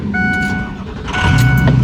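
A 6.0 Powerstroke diesel truck engine fires up, a loud close rumble that swells and steadies near the end, with a faint tonal beeping over it and no talk.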